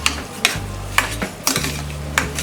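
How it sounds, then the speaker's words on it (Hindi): Soaked foxtail millet and moong dal being stirred in a pressure pan: a spoon scrapes and clinks against the metal about five times in an even rhythm, over a low steady hum. "मिक्स कर देते हैं।"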